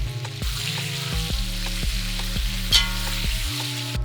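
Meat, onion and grated tomato sizzle steadily in a hot pan while a utensil scrapes and stirs in repeated strokes, close up and without talk.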